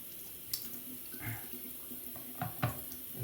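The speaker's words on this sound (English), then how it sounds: "let me wash the stone and flip it over the next side" Tap water running over a Shapton 8K or 12K sharpening stone as it is rinsed during razor honing: a steady soft hiss with a few splashes and light knocks, close and quiet, with no talking.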